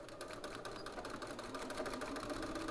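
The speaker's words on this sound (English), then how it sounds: "Let's head over to the machine and stitch this down at 5/8 of an inch seam allowance." A sewing machine stitches down a seam at a 5/8 inch allowance, a faint, steady rapid whirr with fine rhythmic ticking running through the short stretch, no voices.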